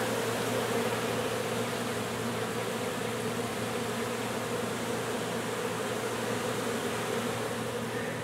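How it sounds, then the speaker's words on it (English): A dense, continuous buzzing of many honey bees congregating on a box close by, steady and loud throughout with no voices. "So we have a few bees. We got most of the bees here."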